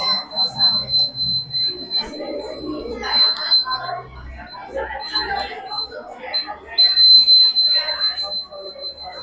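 A student-built earthquake alert device at a school science expo beeps with a steady high tone through repeated bursts, heard beneath constant crowd chatter and talking.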